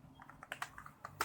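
Short bursts of keystrokes on a computer keyboard while entering dimensions and text in AutoCAD drawing software, several quick taps closing with a louder cluster, close and fairly quiet.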